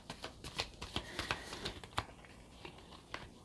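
A deck of tarot cards is shuffled by hand, with quiet, close, irregular riffling snaps and slides, busier at first and then thinning out.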